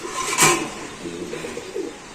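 Pigeons at a market, white racers among them, coo in soft low bursts nearby, with a sharp brief flutter or clack near the start and scattered murmurs after.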